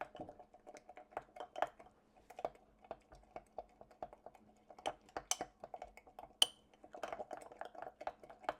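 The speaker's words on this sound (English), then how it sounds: "I do spend a little bit longer stirring this one than the others though, just to make sure that peanut butter is well incorporated" A spoon stirs thick peanut butter overnight oats in a glass jar, making rapid, irregular light clicks and clinks against the glass, close but quiet, continuing steadily without voices.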